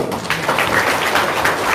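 Audience applause at a live talk, dense steady clapping that fills the whole moment at a fairly loud, even level.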